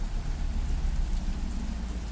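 Steady rain falls in a dense, even wash of noise with a low rumble underneath, continuous and fairly loud throughout, with no voices.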